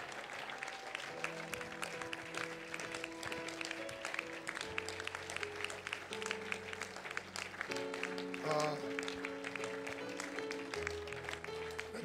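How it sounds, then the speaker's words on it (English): A church congregation claps steadily as a group while sustained organ or keyboard chords play loudly over the clapping. "Shall we give the Lord Jesus a clap offering?"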